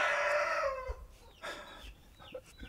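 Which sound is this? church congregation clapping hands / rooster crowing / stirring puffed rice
rooster crowing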